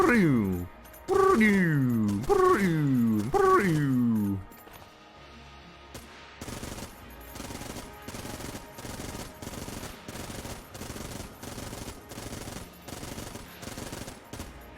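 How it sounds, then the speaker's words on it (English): Makeshift railgun firing in bursts in Enter the Gungeon, giving four sharp, loud game shots with falling tones, followed by a steady run of rapid rhythmic firing at moderate level. "It's like a weird burst fire."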